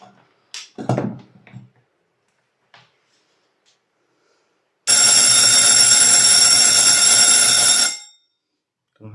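An electric bell wired in an RL parallel circuit rings loudly and continuously for about three seconds as a steady metallic buzz. Before it there are a few faint handling knocks and a short thump.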